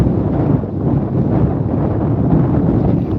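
Strong wind on a lake in Maine buffets the microphone in a continuous, low rumbling roar with no voices.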